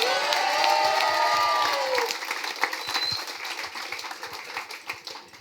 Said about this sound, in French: donc c'est pas mal, hein, ça s'applaudit